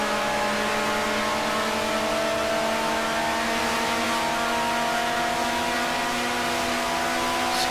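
A racing car engine in the Grand Prix Legends game, set at the 1965 Belgian Grand Prix, holds a loud, steady high-pitched drone as it accelerates, with continuous whining tones and no talk.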